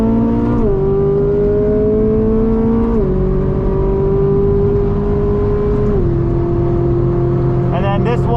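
A Ferrari 458 drives laps at Brainerd International Raceway, its engine holding a steady loud tone that steps to new pitches with each gear change, while someone talks throughout over the engine.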